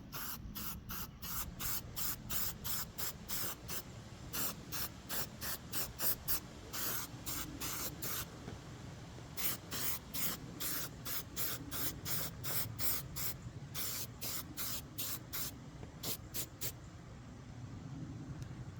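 A second coat of spray paint goes onto a Losi NASCAR RC car body outdoors, with many short hissing bursts from the can in quick runs separated by brief pauses, close and clear.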